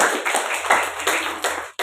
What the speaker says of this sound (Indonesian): Tepuk tangan buat Jamira.